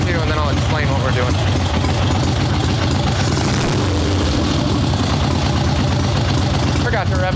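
A swap meet chopper motorcycle engine with a fully mechanical Mikuni carburetor idles steadily, giving a loud, low, thumping rhythm that carries on close by for the whole stretch, with no voice over it.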